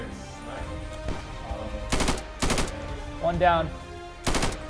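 Gunfire in the tactical shooter Insurgency: several sharp, loud bursts of rifle and machine-gun fire crack out at irregular intervals, with a voice briefly speaking between the shots.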